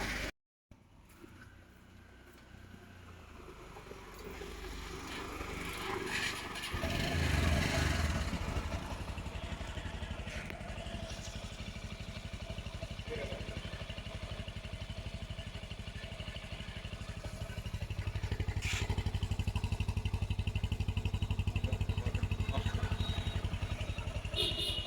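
A Bajaj Discover 135 motorcycle with an engine noise problem runs at a steady idle in a workshop, a continuous mid-level hum that rises slightly toward the end.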